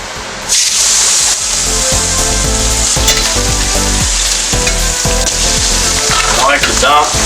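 A ribeye steak fries in a hot pan, a loud steady sizzle and spitting hiss that jumps up as the meat hits the oil and continues with spoon scrapes and basting splatters.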